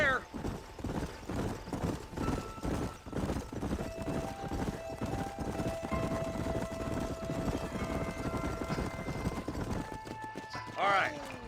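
Horses' hooves clip-clop in a steady walking rhythm on dry canyon ground in Red Dead Redemption 2, heard under continuous talking, with a horse whinny briefly near the end.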